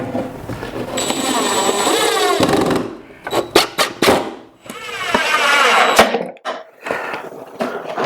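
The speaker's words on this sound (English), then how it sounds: "I'm gonna go to the other side and drill through just so there's no tear out." Power drill boring through plywood during a router table build, the motor whirring in two sustained runs separated by short bursts and clatter, loud and close.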